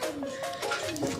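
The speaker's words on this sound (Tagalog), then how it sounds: "Ayan ang ibon natin." Low, repeated cooing of a pigeon nearby, several soft rolling calls in quick succession.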